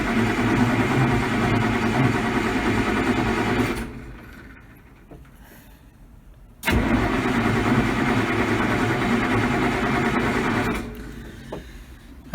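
A Massey Ferguson 1105 diesel tractor engine cranks loudly on a cold start after sitting, in two long grinding bursts of several seconds each with a short quiet pause between them. The sound is close and continuous, and no one talks.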